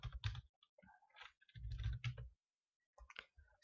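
Quiet, close taps on a computer keyboard come in short irregular bursts of keystrokes, separated by brief silent pauses.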